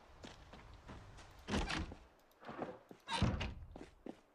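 A door opens in the zombie survival game Project Zomboid, a series of muffled thunks and scraping knocks coming in uneven bursts, fairly quiet and close.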